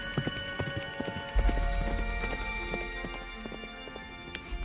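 Horse hooves clip-clop at a steady walking rhythm, crisp and fairly close, with a brief heavier thud partway through and no talking.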